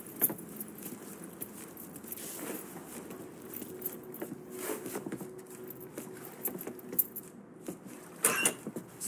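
Keys jangling as they are picked up in the crime game Mafia 3, a soft metallic rattle among light clicks and shuffling, with a sharper cluster of jingles near the end.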